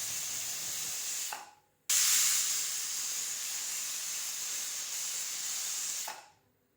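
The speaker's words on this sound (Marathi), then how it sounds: "मध्यम आचेवर आपल्याला कुकरच्या दोन शिट्ट्या करून घ्यायच्या" A pressure cooker on medium heat cooking tomato rice, sending out two long, loud steady hisses of escaping steam separated by a brief pause, close by with no voices.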